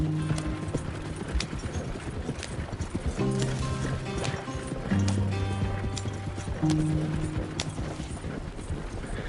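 In the Red Dead Redemption 2 video game, a horse gallops with steady rhythmic hoof clip-clops, while low tonal music or ambience swells underneath at moderate loudness.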